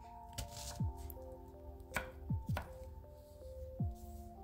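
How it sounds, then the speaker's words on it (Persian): Knife chopping an onion into fine dice on a board, a few distinct sharp chops spaced irregularly over steady background hum, close and moderately loud. "پیازی که داریم و به صورت نگینی کاملا ریزش میکنم"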